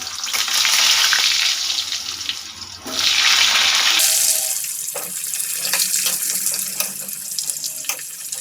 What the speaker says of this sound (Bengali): সবগুলো ভাজা হয়ে গিয়েছে। পটলগুলো ভেজে নেবো।